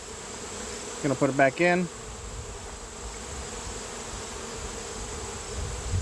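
Honey bees drone steadily at an open Layens hive. Someone speaks briefly early on over the continuous buzz.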